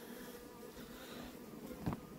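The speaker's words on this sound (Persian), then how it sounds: "میبینیم که زنبور روش میره" Honeybees crawl and hum on a beehive frame after the honey harvest, with a soft steady buzz close by and a brief louder thud near the end.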